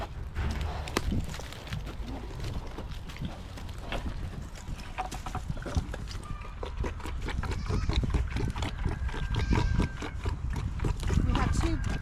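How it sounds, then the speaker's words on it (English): Pigs on a homestead eat their breakfast at morning feeding time, with steady close-up chomping, clicking and snuffling, occasional grunts, and a person's voice now and then. "Let's feed the pigs. They're anxious for their breakfast."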